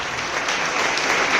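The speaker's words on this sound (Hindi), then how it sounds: "दोनों हाथ तालियों से लहराने चाहिए दोस्त" A large audience at a motivational program claps with both hands; a dense, even wash of applause, loud and continuous for the whole short stretch.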